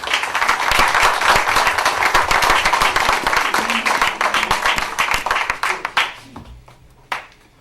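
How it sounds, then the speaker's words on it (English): Audience at a township committee meeting giving a big round of applause: dense, loud clapping from many hands that thins out toward the end, with a few last scattered claps. "let's give them a big round of applause"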